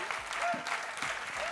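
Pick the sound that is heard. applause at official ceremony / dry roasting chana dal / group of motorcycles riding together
applause at official ceremony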